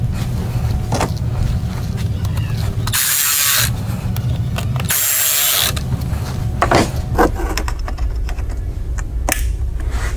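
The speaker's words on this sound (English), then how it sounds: "go ahead and tighten up your clamps." Hose clamps are tightened on a JLT cold air intake for a Dodge Charger or Challenger Hellcat, giving close, repeated ratcheting clicks and scraping rubs with two bursts of harsh noise, with no speech.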